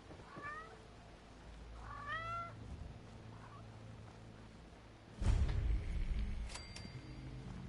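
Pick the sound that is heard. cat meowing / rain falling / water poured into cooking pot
cat meowing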